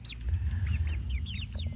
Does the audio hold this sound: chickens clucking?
yes